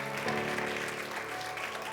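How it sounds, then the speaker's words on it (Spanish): A church congregation claps together in a steady, moderately faint round of applause that continues without a break for a couple of seconds. "Dale ese fuerte aplauso al Señor porque Él es bueno."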